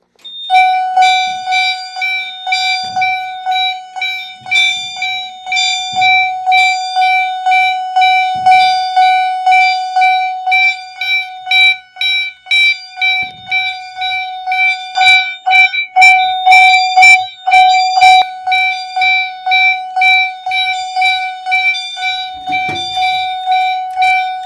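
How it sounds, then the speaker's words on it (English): FireLite BG-12 fire alarm system chime strobes sounding loudly and close, repeating a bright chime in a steady pulsing rhythm throughout, with faint handling noises underneath. "these chime strobes are actually quite loud"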